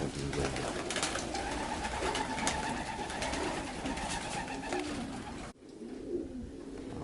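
Many young racing pigeons cooing together in a loft, a dense continuous murmur of low calls that briefly drops away near the end.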